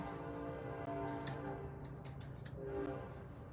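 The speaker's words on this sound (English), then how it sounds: "You're going to hear the train good." A train rumbles past at a distance, a steady low roar with faint clanking, heard through an open window with a bird calling.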